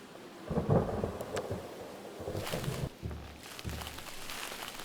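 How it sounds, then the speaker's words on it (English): Thunder in the point-and-click game Don't Escape 4, low rumbles rolling in from a distance over a faint rain-like hiss, with a swell early on and later deeper growls, no speech. "Thunder in the distance."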